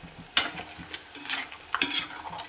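Leftover beef frying on a medium flame sizzles steadily up close, with spoon or spatula stirring and scraping against the pan in irregular bursts, and no talk.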